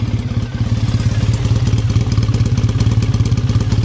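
A Triumph T100 Bonneville 865 motorcycle with aftermarket exhaust cans idles loudly up close, its exhaust thumping out a fast, even, rumbling pulse with a throaty, aggressive tone.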